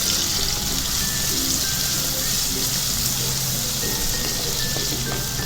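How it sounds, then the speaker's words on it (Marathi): Finely chopped small tomato sizzling in a pan for Marathi-style anda bhurji, a loud, continuous hiss with crackles, close up and steady. "एक लहान आकाराचा टोमॅटो बारीक चिरून त्याला देखील फ्राय करून घ्यायचा"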